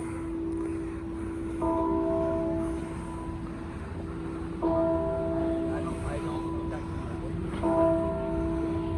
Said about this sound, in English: Those bells are kind of similar to the one in New Rochelle.